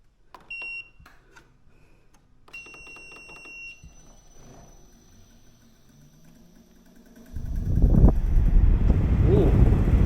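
A Midea U-shaped window air conditioner powers on with short electronic beeps, then its fan and compressor rise into a steady, loud rushing hum that continues to the end.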